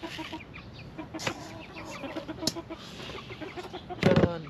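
Chickens cluck softly over low background noise, with one louder, close burst of clucking near the end.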